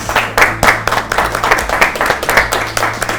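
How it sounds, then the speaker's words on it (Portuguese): Studio audience on the Chupa Cana Show claps for a departing guest, a loud round of live applause with distinct individual hand claps standing out in an irregular, close rhythm. "Uma salva de palmas."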